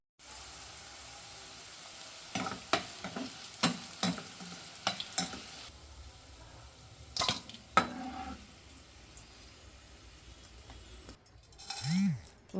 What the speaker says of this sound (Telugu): 1 కప్పు ఆయిల్లో డీప్ ఫ్రై చేసుకొని కాకరకాయ దోరగా డీప్ ఫ్రై చేసుకోవాలి